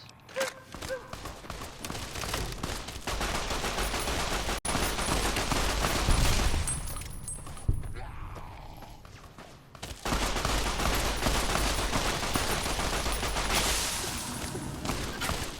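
Enemy gunfire in the Fallout New Vegas video game, a dense, loud fusillade of shots that runs almost without a break, drops away briefly near the middle, then surges back at full strength.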